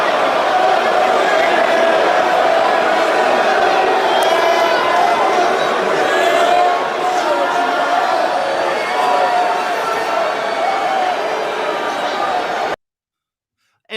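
Loud crowd booing and jeering as people are escorted out, a dense roar of shouting voices that holds steady for about thirteen seconds before cutting off abruptly.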